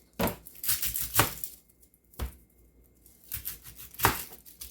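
A knife chopping an onion on a cutting board, several sharp irregular taps clustered in two bursts with a short pause between, close and fairly quiet with no talking.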